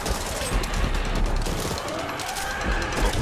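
Dense, overlapping gunfire in the co-op zombie shooter Back 4 Blood, a loud, continuous barrage of rapid shots without clear gaps.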